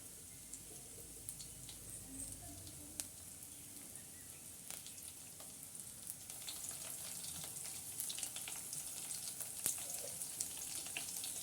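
Garlic sizzling in hot oil with mustard seeds and cumin for a lemon pickle tempering, a faint, steady crackle with scattered pops throughout, no voices.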